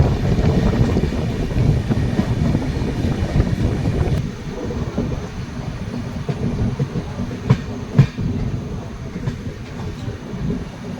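The Kamrup Express passenger train rumbles along the rails on a curve, slowly entering New Jalpaiguri station, loud at first and then easing to a quieter, steadier roll, with a few sharp clanks near the end.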